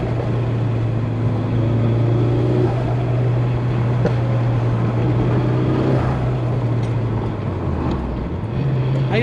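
A Nissan 240SX drives with a steady, close engine drone heard from inside, holding an even pitch before dipping briefly and rising again near the end.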